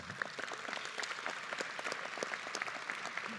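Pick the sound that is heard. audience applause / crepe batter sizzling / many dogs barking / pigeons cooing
audience applause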